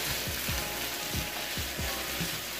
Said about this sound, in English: I'll let this saute for about 2 minutes before I add the noodles